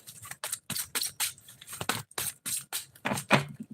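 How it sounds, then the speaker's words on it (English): Tarot cards are shuffled by hand in a quick, regular series of papery riffles and swishes, close and fairly loud, with no talk over them. "I'm shuffling the cards for the freebies."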